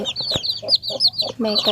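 Black hens and their chicks cluck close by in a quick series of short, throaty calls, with a few higher chirps overlapping near the end.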